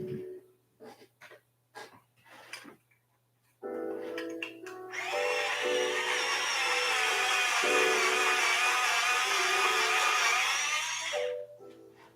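A pencil is sharpened in an electric sharpener that whirs loudly and steadily for several seconds, preceded by quiet breathy vocal sounds and short motor bursts, then cuts off abruptly.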